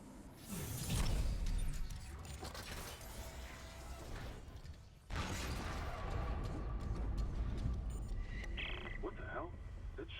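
A ship's door mechanism in a video game slams shut with heavy mechanical clanks, creaks and a sharp cutoff midway, followed by continuing machinery noise while players talk.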